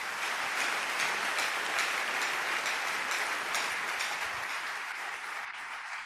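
A church congregation applauding the Lord during a sermon. Steady, dense clapping holds at an even level throughout, with no voices over it.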